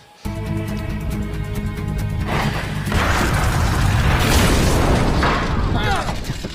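An explosion under a house: a sustained, roaring blast builds and rumbles on, dense crackling noise over low booming, with a tonal hum at the start and no pause for several seconds.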